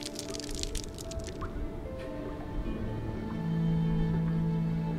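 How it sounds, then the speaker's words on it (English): Small dripping ticks like water droplets from inside a stone pedestal in the game Argonus and the Gods of Stone, soft irregular plinks over a low ambient hum and drone. "Small ticks, like droplets of water, emanate from within this stone pedestal."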